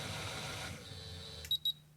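Two short, clear electronic error beeps from a Singer Curvy 8770 sewing machine, sounding after the motor hum cuts out, close and fairly loud against a quiet room.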